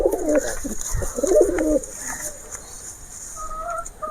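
Zeria pigeons coo close by in low, throaty bursts during the first couple of seconds, then faint calls and soft rustling continue in the background.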